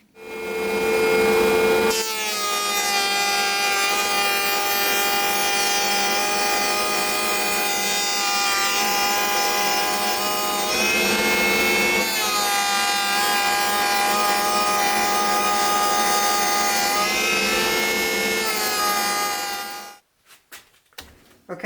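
Power saw blade running through plywood in a single continuous pass, a loud steady whining, rasping cut lasting most of the clip before the motor cuts off, with no speech.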